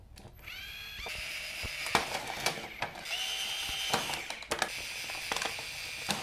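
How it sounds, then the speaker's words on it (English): A power drill bores a handful of holes through a hanging basket liner, with short whining bursts and sharp clicks of the bit catching as it punches through, close by and fairly quiet. "we just went ahead and drilled a handful of holes there to allow excess water to drain out"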